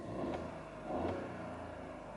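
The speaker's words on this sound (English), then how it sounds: "Hopefully you can hear engine is running flawlessly. I'll just give it a quick rev." A 2020 Ford Focus 1.0 EcoBoost engine hums at idle, then is briefly revved twice, the pitch rising and falling, fairly faint and heard from nearby with no talking.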